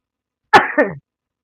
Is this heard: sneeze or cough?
yes